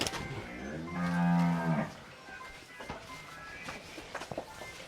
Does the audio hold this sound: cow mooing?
yes